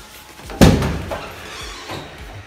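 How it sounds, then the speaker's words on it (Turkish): A door is forced open with one heavy, loud impact, a sharp crash with a booming low thud that rings and fades over the following seconds. "Kır kapıyı Mustafa."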